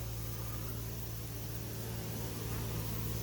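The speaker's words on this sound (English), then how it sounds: "there's a lot of activity going and bringing in resources" Dense, continuous buzzing of many honey bees flying around a well-established swarm trap, a steady droning hum that fills the whole moment with no talking.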